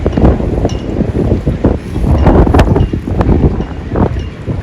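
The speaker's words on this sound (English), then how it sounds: "The water is just rushing right now." Loud, steady rush of water moving around a sailboat, with gusty wind buffeting the microphone, constant and close throughout, no talking.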